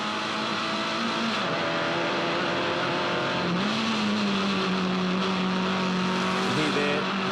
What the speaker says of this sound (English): the 4-speed gearbox working pretty hard